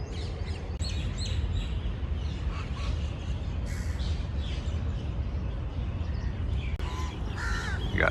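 Several crows caw repeatedly at a distance over a steady outdoor background hum in a park in Delhi, with scattered smaller bird chirps mixed in.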